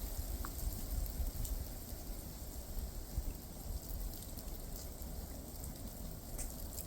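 Rain falls outdoors as a soft, steady, even hiss, fairly faint and continuous throughout, with no voices.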